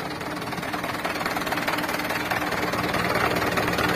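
A 2012 Mitsubishi Canter 125HD diesel truck engine runs steadily, a loud, continuous rough clatter that builds slightly and carries no talk over it.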